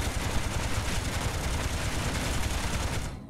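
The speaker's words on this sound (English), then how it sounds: "cannons are shooting at a different point" Ship cannons firing in the video game Space Engineers, a dense continuous roar of rapid overlapping shots, loud and close, cutting off abruptly near the end with no voices.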